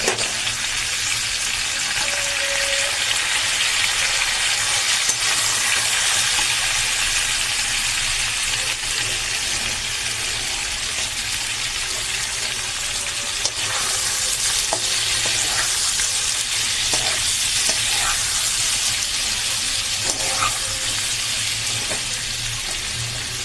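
Prawns fry in hot oil seasoned with Kashmiri chili, giving a loud, continuous, close sizzle with occasional crackles and stirring scrapes in the pan.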